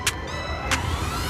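An intercity bus bound for Bandung and Palembang idles or moves nearby, a low steady engine rumble with two short bright hissing bursts, likely air brakes, at the start and middle.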